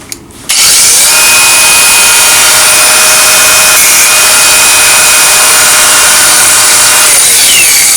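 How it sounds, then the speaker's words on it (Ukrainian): A loud, steady high-pitched whine of an angle grinder cutting through metal, running continuously after a brief start, close and dominant. "Болгарочка, прорізаємо."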